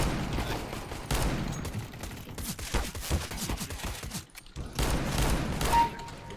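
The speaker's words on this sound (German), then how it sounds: "Schießt der Revolver." Revolver shots crack in rapid, uneven bursts during a Counter-Strike: Global Offensive match, moderately loud against the game's background noise, with no talk over them.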